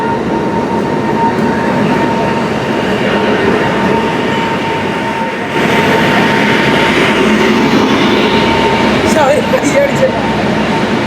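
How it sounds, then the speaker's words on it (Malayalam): A train passing at a station: a steady, loud rumble of rolling wheels and carriages lasting throughout, with a faint high squeal near the end. "ഈ ഒരു കാണുന്ന ട്രെയിനിലായിട്ട് നമ്മൾ പോകണം."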